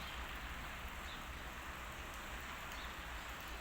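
Steady rain falls outdoors on a cold day in Spain, a dense, even hiss of close drops that continues without a break and with no voices.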